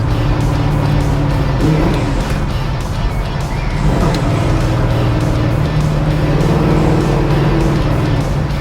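A 1967 Chevelle SS muscle car's loud, throaty engine rumbles close by, its pitch rising and falling as it revs repeatedly over a continuous deep drone.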